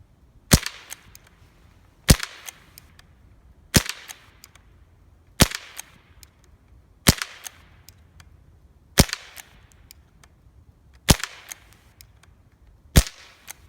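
A Benjamin Wildfire PCP air rifle fires eight sharp, cracking shots outdoors at an even pace of roughly one every two seconds, each a loud close snap with a short fading tail.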